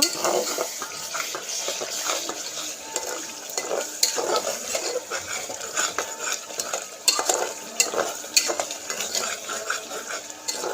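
Masala for tadka fries in oil in a pan while a spoon stirs and scrapes it, giving a continuous sizzle broken by frequent metallic clinks and scrapes, close and fairly loud.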